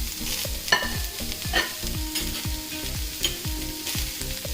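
Blanched baby corn, carrots and broccoli stir-fried over high heat, sizzling steadily while a utensil tosses and scrapes the pan in a fast, regular rhythm; no voices.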